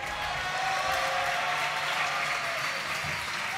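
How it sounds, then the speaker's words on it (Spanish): Audience applause and crowd noise for team Existence at a League of Legends grand final in Tenerife, a steady dense wash of clapping that holds loud and even for the whole stretch. "quiero un aplauso primero para Existence"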